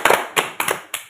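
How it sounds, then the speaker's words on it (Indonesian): Four quick, crisp hand claps in an uneven rhythm, close and loud, with short gaps of silence between them. "Tepuk tangan."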